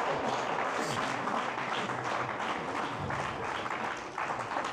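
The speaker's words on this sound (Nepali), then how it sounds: "एकचोटि ताली बजाउनुहोस् त" A congregation applauds during a sermon, a sustained, loud, even wash of clapping that carries on steadily throughout with no speech over it.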